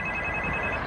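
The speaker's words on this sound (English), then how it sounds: "that phone's ringing" A phone rings with a steady electronic tone over loud outdoor street noise during a long walk from St Helens to Liverpool, the burst short and continuous.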